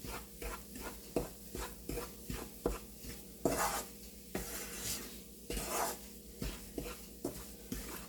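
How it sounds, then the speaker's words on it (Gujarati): Flour roasting in crackling ghee for jaggery sukhdi, stirred with a utensil in a pan, a soft rhythmic scraping repeating about once a second with faint sizzle underneath. "સુગંધી આવવા માંડી ને ઘી પણ ફૂટવા માંડ્યું છે થોડું થોડું."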